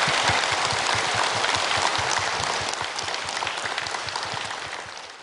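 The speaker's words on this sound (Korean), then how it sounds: "여러분 다시 한번 큰 박수 부탁드립니다." Steady, dense applause from a lecture audience at a KBS Gwangju talk on character education, close and sustained across the whole stretch and easing slightly toward the end, with no voices over it.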